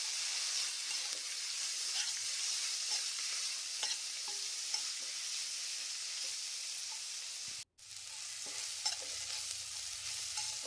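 A tomato mixture with coriander and mint fries in a pan, a quiet steady sizzle and hiss with occasional light stirring scrapes and a brief dropout near the end, no speech.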